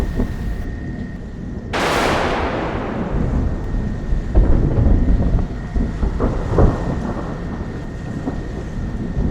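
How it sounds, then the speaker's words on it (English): Thunder from a lightning storm at sea, sailing between Florida and Cuba, breaks in a sudden loud crack and then rolls on in a heavy rumble, with wind and rain roaring throughout. "the storm simply built around us"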